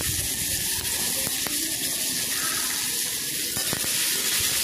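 Pumpkin and potato pieces sizzle in hot oil with dried red chillies, a steady loud frying hiss throughout with a few sharp pops and stirring clicks.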